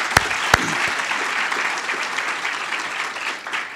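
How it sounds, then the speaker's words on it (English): Steady applause from a lecture audience, a couple of sharp close claps at the start before settling into continuous dense clapping throughout. "I think Prof deserves another hand of applause for that"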